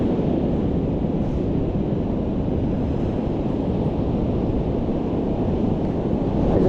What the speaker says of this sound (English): I just love to hear the waves.